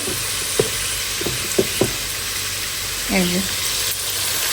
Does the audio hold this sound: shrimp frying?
yes